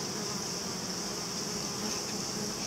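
A steady, dense insect buzz hums continuously throughout, close and even in level, like bees droning with no pauses or other sounds.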